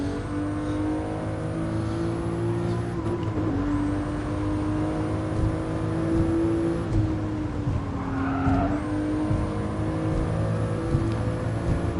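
A Toyota Supra engine in Gran Turismo Sport howls at high revs, climbing through gears with brief drops at shifts, tires squealing as the car slides through turns.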